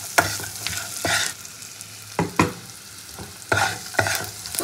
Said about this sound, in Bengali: মশলাটা আমার হালকা করে ব্রাউন করে ভাজা হয়ে গেছে